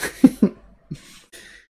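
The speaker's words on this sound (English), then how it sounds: "You've always liked my sniffles" Several short, wet nasal sniffs come in quick succession, followed by two softer, breathy exhales, all close and fairly loud with no talking.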